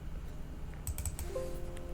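A computer mouse is double-clicked close up, a quick cluster of light, sharp clicks in a quiet room.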